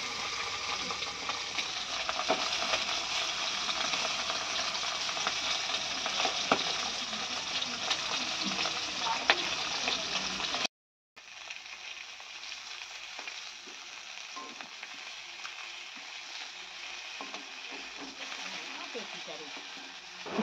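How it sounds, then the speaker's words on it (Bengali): Bhola fish frying in a pan gives a steady, dense oil sizzle throughout, broken by a brief silent cut near the middle before a slightly quieter sizzle resumes. "দেখো আমি মাছটা ভেজে নিচ্ছি"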